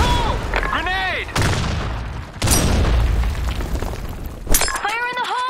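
Grenade blasts in the online shooter Blackshot, two heavy broadband booms a second apart with a third sharp burst near the end, mixed with loud radio-style voice callouts and game effects.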